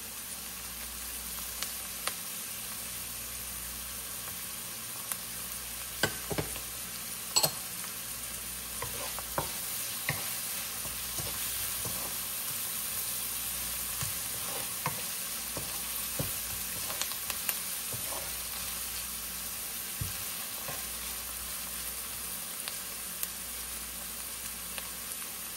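Garlic sautéing in a pan for munggo, a steady soft sizzle and hiss with occasional scrapes and clicks of stirring, close and fairly quiet throughout.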